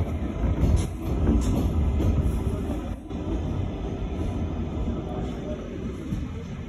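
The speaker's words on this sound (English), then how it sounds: "This is a Flushing Main Street bound 7 Express train." A New York City subway 7 Express train bound for Flushing Main Street is heard from inside the car, with a continuous low rumble and steady rattling of wheels on track, fairly loud and unbroken throughout.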